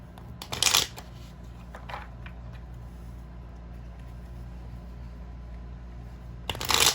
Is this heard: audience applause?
no